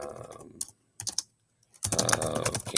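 Typing on a computer keyboard, quick bursts of close, crisp key clicks separated by short pauses, with no talk.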